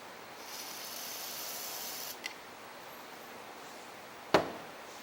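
Two short hissing sprays of cleaner into the engine ports of a Troy-Bilt 140cc lawn mower with a Briggs and Stratton engine, a faint brief burst then a sharper, louder one a couple of seconds later, close by against quiet background noise.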